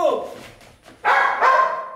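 A dog barks in a village scene from a Haryanvi comedy film, giving two sharp loud barks close by after a brief whine, with voices nearby.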